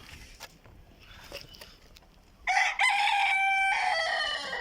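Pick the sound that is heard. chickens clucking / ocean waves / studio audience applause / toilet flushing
chickens clucking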